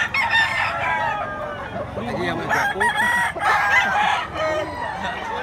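Gamecock roosters of Grey and Kelso Roundhead bloodlines crow repeatedly close by, their calls overlapping amid low clucking and murmured voices in the background.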